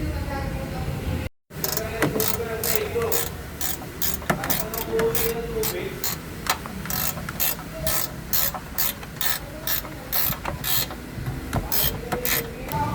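A ratchet wrench clicks rapidly and steadily while backing out size 13 screws from a Ford Mustang bumper, loud and close, with a voice talking intermittently over the mechanical clatter.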